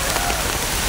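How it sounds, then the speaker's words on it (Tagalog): Steady rain falling on a mountainside at night, a dense, even hiss of drops with no breaks, close and fairly loud, no voices. "Malakas dos lang ngayon bro, kaya umuulan."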